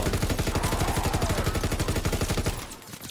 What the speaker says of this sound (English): MG15 is beast.